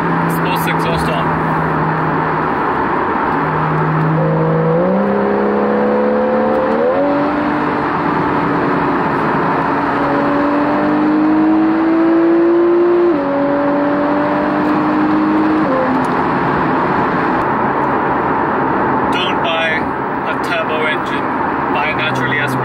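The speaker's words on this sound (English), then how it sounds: "Sports exhaust on." Porsche 991.1 GTS with a naturally aspirated engine and the sports exhaust switched on, revving up through several gears in rising, stepped pulls, loud and close, then settling back to a steady cruise; no one speaks.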